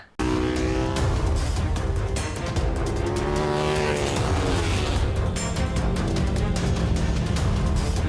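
A KTM 1290 Super Duke R naked bike roars continuously at high revs, its loud engine note sweeping up and down close by with no break.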